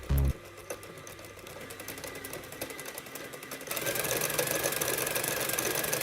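Small LEGO motor spinning up to full speed, a fast mechanical whir with a rattling, sewing-machine-like buzz that grows louder and denser after a few seconds, close and moderately quiet.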